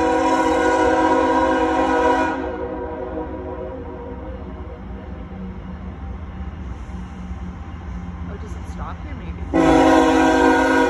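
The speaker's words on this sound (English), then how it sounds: "Freight train." An empty CSX coal freight train rolls slowly through Thurmond, West Virginia, its horn sounding loud and sustained at the start and again at the end, with a steady rumble of cars passing in between.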